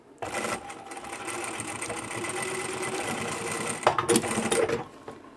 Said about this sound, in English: So I'll back stitch and then just triple stitch over that.